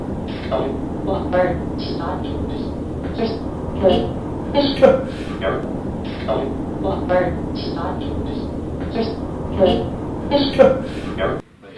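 A train passing nearby as a low, steady rumble beneath ongoing conversation, with people talking over it almost throughout.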